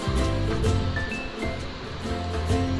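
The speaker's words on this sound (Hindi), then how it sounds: "अब इसमें डालेंगे" About one and a half cups of water is poured into mashed pav bhaji cooking in a pan. It makes a steady, hissing splash for several seconds, with soft background music underneath.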